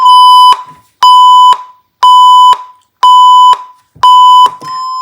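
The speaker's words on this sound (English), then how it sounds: "it sounds an alarm 5 times and it freezes the frame" Five loud, evenly spaced electronic beeps from a signal tracer module's limit alarm, each a bright half-second tone with pauses between, sounding alone.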